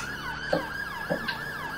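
A police car siren in the video game GTA IV wails in fast repeating up-and-down sweeps, steady and fairly loud, with faint thumps underneath; no voices.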